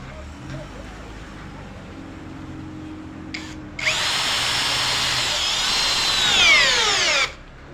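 A power drill drives a large 5-inch screw, a high whining motor buzz that starts abruptly, holds steady with its pitch sagging and wavering under load for about three and a half seconds, then cuts off sharply after brief quieter mechanical noise.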